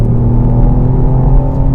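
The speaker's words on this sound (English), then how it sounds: "It's 3-cylinder for a start, so it has that exaggerated, upbeat, gravelly crescendo" The three-cylinder engine of a 2018 Ford Fiesta ST hot hatch gives a loud, close, steady droning rumble rich in low harmonics, holding a constant pitch without talk.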